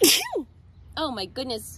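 A single sharp sneeze from an adult woman, followed by a short exclamation from a voice nearby.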